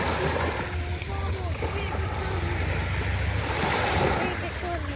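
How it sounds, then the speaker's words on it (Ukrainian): Steady wash of waves and water over constant wind noise, unbroken for several seconds, with faint voices in the background. "Просто послухайте на ці хвилі."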